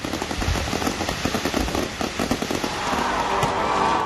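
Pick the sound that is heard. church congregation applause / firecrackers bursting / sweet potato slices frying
firecrackers bursting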